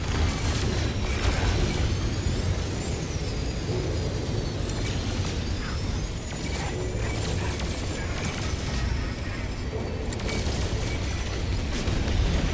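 Upgraded cannons on a freighter in the space game No Man's Sky fire in a dense, continuous barrage of booming blasts and mechanical rumble, loud and unbroken throughout with no speech.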